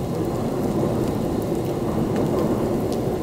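Rain falls on an umbrella in a heavy storm at Sydney Harbour, a dense, steady patter close by with no voices.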